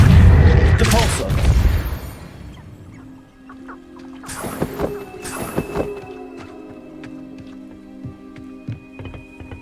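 In Hogwarts Legacy, the Depulso spell is cast with a heavy booming whoosh, followed by a second burst and scattered impacts under a low ambient hum.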